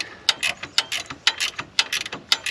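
A ratchet wrench tightening alternator and belt fittings on an 80 Series Landcruiser, making rapid, close, crisp clicking in quick bursts of swings, with no talking.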